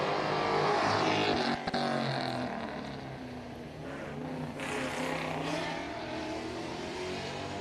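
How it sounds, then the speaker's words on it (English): A Chevrolet V8 race car engine roars and revs at a grassroots sprint event, loud at first then settling into a sustained throaty drone as the car pulls away. "That very distinctive Chevrolet V8 sound that's been in so many race cars for so many decades."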